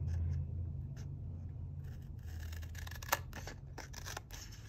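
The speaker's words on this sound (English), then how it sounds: "using your scissors or your trimmer" Scissors cutting paper for a handmade Christmas card, soft close snips and rustles with a faint scrape, quiet and without voices.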